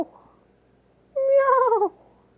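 A cat gives a single clear, drawn-out meow close by, preceded by a faint short mew, with no talk over it.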